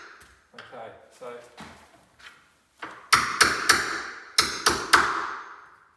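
A hammer taps a chisel into the edge of an entrance door to cut a recess for a lock, giving a close run of six sharp taps in two clusters of three. Speech is heard before the taps start.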